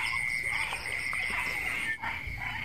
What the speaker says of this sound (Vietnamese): Bên đây nhái kêu nhiều nè mọi người.